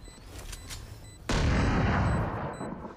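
Gunfire punches through a wall in the tactical shooter Valorant, a sudden loud, dense burst after a quieter stretch of faint game tones, then a sustained rumbling tail.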